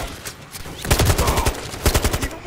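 Rapid bursts of suppressive automatic gunfire crackle in Call of Duty MWIII, loud close shots in quick uneven volleys with a brief voice heard early on.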